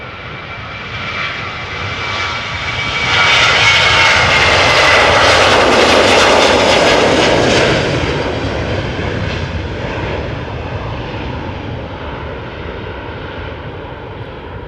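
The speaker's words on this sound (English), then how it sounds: "Next up is going to be a KLM 737-800" A KLM Boeing 737-800 passes close at Amsterdam Schiphol, its jet engines swelling to a loud, whining roar around the middle before easing back into a steady fading rumble, with no voices.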